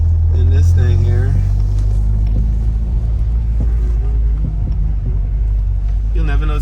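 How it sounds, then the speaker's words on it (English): Turbocharged Nissan S15 engine and exhaust rumbling low and steady while driving, a deep continuous drone inside the car with people talking over it. "You'll never know it's turbo. It just sounds like we added an exhaust."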